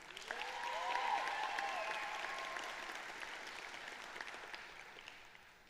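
Graduation audience at a high school ceremony applauding for students, a broad steady patter of many hands, fairly distant and soft, swelling early then slowly fading.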